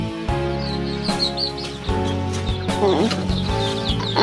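Chickens and a rooster on a backyard farm cluck and chirp softly in the background while someone talks over them, with a faint bird call rising near the middle.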